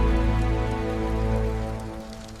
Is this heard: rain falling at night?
yes